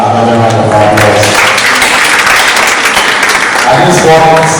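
A crowd at a women's business summit breaks into loud applause, a dense burst of clapping that swells in the middle, with music or a voice briefly audible at the start and end.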